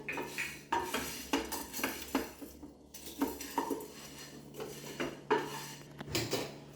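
Toor dal is fried and stirred in a pan for kandi pachadi, with a spatula scraping and clinking against the metal in quiet, rhythmic strokes and no talk.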